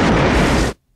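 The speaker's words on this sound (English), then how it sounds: "Oh my, that's quite the explosion." A loud, sustained explosion as a train is destroyed in the film Back to the Future III, a dense roaring blast that holds steady for most of a second and then cuts off sharply into near silence.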